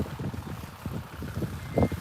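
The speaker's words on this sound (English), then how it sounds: "Can you hear me over the wind, or is that terrible?" Storm wind blows across floodwater at Potter Heigham, gusting in low, rumbling buffets against the microphone, with uneven bursts throughout and a stronger gust near the end.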